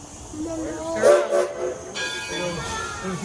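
The 4-4-0 No. 1 Edison steam locomotive gets under way with a loud hiss of escaping steam and sustained whistle-like tones. The sound swells and drops across the moment of starting, with faint voices in the background.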